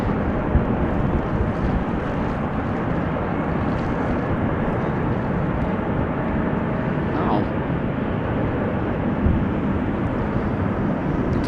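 Embraer 175 at Amsterdam Schiphol Airport, a steady distant jet rumble and broadband roar persisting evenly throughout, with wind buffeting the microphone.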